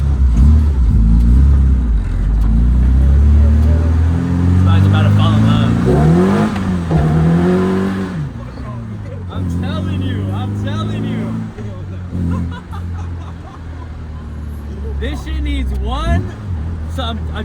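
A KA-swapped Datsun 210 drives on a test run, its engine loud and close as it revs and shifts through gears, with people talking over the steady drone.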